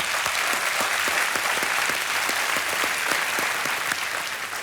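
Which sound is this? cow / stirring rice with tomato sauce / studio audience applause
studio audience applause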